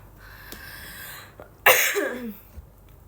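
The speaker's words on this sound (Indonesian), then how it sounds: "Tapi kayak batuknya tuh kayak nggak ada dahaknya gitu loh, kayak kering banget." A single dry, harsh cough bursts out close to the microphone, followed by a throaty exhale, with quieter breathing before and after.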